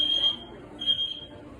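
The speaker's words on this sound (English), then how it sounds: "Fire alarm." Hotel fire alarm sounding in electronic beeping bursts, a steady high tone that cuts out briefly and returns, moderately loud against indoor background noise.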